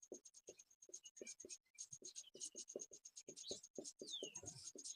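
Pen strokes scratching across paper during a class 10 maths lesson on polynomials, a steady run of short close scribbles and taps in quick irregular rhythm with brief pauses between words being written.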